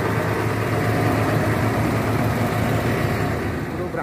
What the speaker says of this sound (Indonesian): Kita dengarkan dulu suara mesinnya teman-teman. Masih sangat halus.